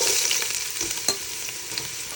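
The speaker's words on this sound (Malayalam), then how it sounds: "അപ്പോൾ എണ്ണ ചൂടായി വരുന്നുണ്ട്. നമുക്ക് ചെറുതായിട്ട് അരിഞ്ഞു വെച്ച സവാള അതിനകത്ത് ഇടാവേ." Sliced onions for dum biryani hissing in hot coconut oil and ghee, a dense, loud, close sizzle with a few utensil knocks as they are stirred.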